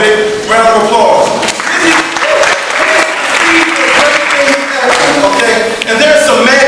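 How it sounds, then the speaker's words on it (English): Loud, steady applause from a campaign crowd at a headquarters event, dense clapping that continues throughout, with voices and cheering mixed in. "Give yourself a big round of applause."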